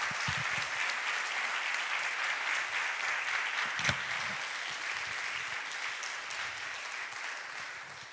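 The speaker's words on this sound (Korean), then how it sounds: "오늘도 목사님 나오실 때 한번 힘차게 환영의 박수로 목사님 맞이하겠습니다." Church congregation at a Korean Presbyterian fall revival service applauding steadily to welcome the pastor, a dense, even roar of many hands clapping for several seconds and tapering slightly at the end.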